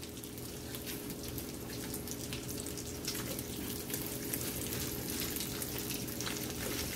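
Shredded cabbage goes into a frying pan of cooked-down bacon, setting off a steady, close sizzle with a watery, crackling hiss that holds evenly throughout.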